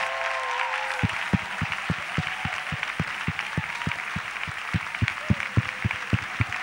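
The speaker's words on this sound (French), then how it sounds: "Ah, applaudissons pour très bien." An audience claps in a steady, rhythmic beat, each clap sharp and evenly spaced, continuing for several seconds after a voice trails off at the start.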